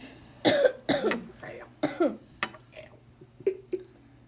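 A series of harsh, rasping coughs in quick bursts, loud and close, trailing off into smaller throaty coughs.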